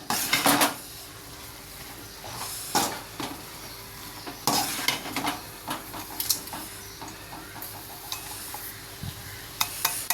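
Cooked snake gourd being stirred into a pan a little at a time while making pudalangai puttu, with irregular metal scrapes and clanks of a spoon against the pan over a faint sizzle between quieter pauses, nearby and without speech.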